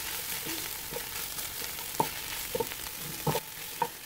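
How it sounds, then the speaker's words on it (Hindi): A shepherd's pie mixture fries with dry spices in a pan, giving a low steady sizzle broken by scattered scrapes and clinks of stirring, moderately close, with no voices. "ड्राई स्पाइसेस के साथ मैं इसको अच्छी तरह से भून"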